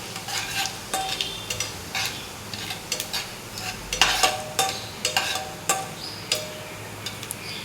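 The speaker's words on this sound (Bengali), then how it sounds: "দিয়ে দেবো গোটা জিরে দিয়ে ভালো করে আমি এগুলোকে নাড়ব" Whole cumin seeds and cloves sputter in hot oil while a spoon stirs the pan, with sharp scraping strokes and pops recurring every second or so over a steady sizzle.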